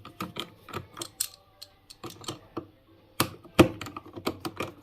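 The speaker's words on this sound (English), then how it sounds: "Right, so I've removed those 4 screws." Small Torx screws come out of a Vauxhall Corsa B speedometer cluster in a quick series of sharp clicks and ratcheting taps, up close and irregular, with short pauses between bursts and no speech.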